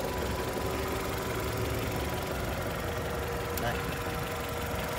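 A 2008 Chevrolet Captiva engine idles quietly with the hood open, a steady low hum and faint mechanical ticking running unbroken and close throughout.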